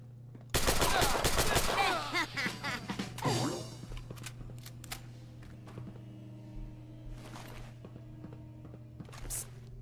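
Turrets open fire in a heavily modded Fallout 4, with a loud, rapid burst of automatic gunfire lasting a few seconds, followed by quieter thuds and scattered shots over a low game hum.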